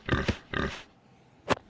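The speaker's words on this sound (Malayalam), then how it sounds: "പന്നി വാടാ പന്നി" Pig grunts from a video game, two short close grunting bursts followed after a pause by a brief sharp squeal, with no talk over them.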